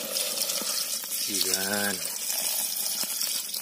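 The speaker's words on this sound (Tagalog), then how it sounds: "ilagay na po natin yung ating gata" Coconut milk is poured into a cooking pot of papaya stew, a continuous liquid splash under an ongoing hum, while someone speaks briefly.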